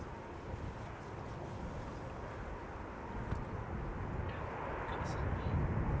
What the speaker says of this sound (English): it's an A320neo arriving from Edinburgh